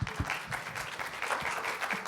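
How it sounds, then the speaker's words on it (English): An audience at a student public speaking showcase claps for contestants after their Q&A, a steady wash of applause filling the room for the whole stretch with no speech over it. "Let's give our contestants a round of applause for their Q&As."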